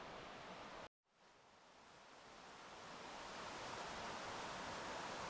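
A river rushes through the dark at Sai no Kawara in Kusatsu Onsen, a steady broadband wash of flowing water that drops out briefly near the start, then returns and swells gradually.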